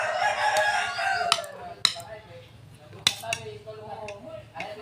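A rooster crows loudly and nearby at the start, followed by scattered sharp clucks and knocks, with faint background voices and household noise in a Filipino home setting.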